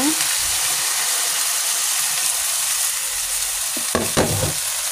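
A pan of chicken and cauliflower sizzles steadily after water is added. The hiss stays dense and even, and a few clanks of stirring or the pan shifting come near the end.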